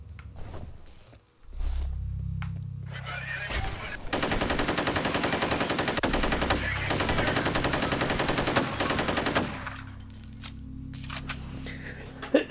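Sustained automatic assault rifle fire in the F.E.A.R. shooter game, loud rapid bursts running several seconds with a short gap, preceded by low mechanical rumble and followed by quieter clatter.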